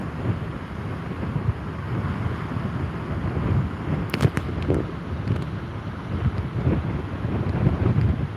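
Typhoon Bavi storm surf on the Jeju coast, waves breaking high over a white lighthouse, a steady roar of wind buffeting the microphone with heavy surging water beneath, a few sharper crashes midway, no voices.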